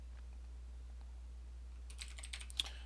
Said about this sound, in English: here I'm just going to type exit for now